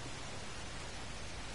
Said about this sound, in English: He's not bothered about the rain. Because that is some rain.